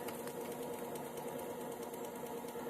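A FADA electric bicycle motor, after a year of use, speeds up with a steady close whine and buzzing hum that holds level without pause and without talk.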